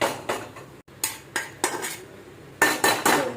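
Crunchy onions are tossed into a pan and stirred, heard as a series of sharp metallic clanks and scrapes of utensil against cookware, close and rhythmic with a short pause partway through.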